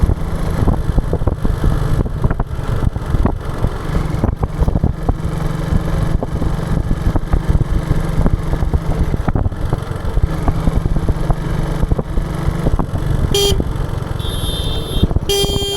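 A car travelling on the Samruddhi Mahamarg expressway between Nagpur and Mumbai gives a steady, loud road and engine rumble throughout, with a brief horn-like tonal burst near the end and no talking.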